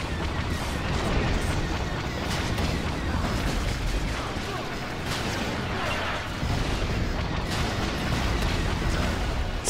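Rapid grenade blasts and gunfire boom in a Star Wars Battlefront 2 battle, a dense, continuous barrage of bursts layered over constant combat noise with voices calling out beneath.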